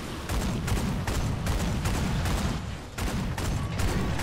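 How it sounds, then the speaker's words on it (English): Rapid repeated gunshots from a video game fire in a steady, evenly spaced string of loud cracks over a dense rumbling background, with no pause for several seconds. "I took like a million shots."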